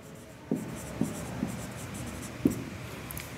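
Pen or pencil writing an answer by hand, with a few soft, separate scratchy strokes spaced about half a second apart, close and quiet against a faint room hush.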